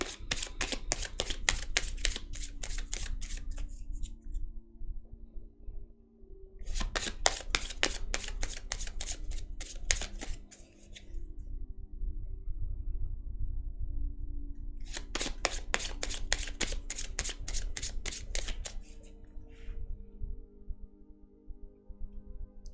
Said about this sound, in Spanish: vamos a barajar las cartas